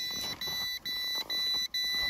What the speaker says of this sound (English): It's telling me that there's no AC power charging it, even though I got a solar setup.